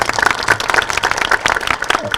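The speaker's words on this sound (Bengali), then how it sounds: "আমি রিকোয়েস্ট করবো তাদের জন্য একটি হাততালি দেওয়ার জন্য" Audience at a university victory festival in Dhaka clapping briskly, a dense, lively patter of many hands that stays close and fairly loud throughout.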